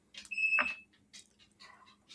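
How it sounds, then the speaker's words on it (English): One electronic beep, likely from a smoke alarm, sounds near and fairly loud, followed by faint indistinct household noises. "Did you guys hear the beep?"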